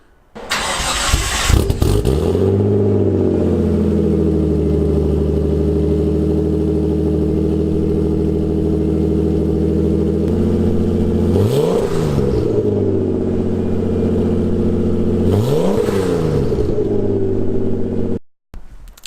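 A Nissan 240SX S14 with an RB25 engine and its muffler still fitted revs loudly and steadily, with two sharp throttle blips rising and falling near the end before it cuts off.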